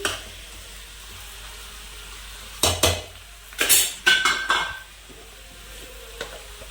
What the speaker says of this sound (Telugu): ఈ కిందకి మిందులో తిప్పేస్తే మొత్తం ఉల్లిపాయ ముక్కలను పచ్చిమిరపకాయ ముక్కలతో క్యాప్సికమ్ ముక్కలు కలిసిపోతాయండి